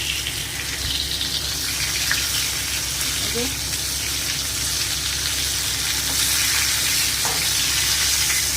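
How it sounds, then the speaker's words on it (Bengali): Oil sizzles and crackles steadily as pieces of pointed gourd fry in a pan, a continuous frying hiss with occasional faint stirring scrapes. "লাল লাল করে ভাজা হয়ে গেছে।"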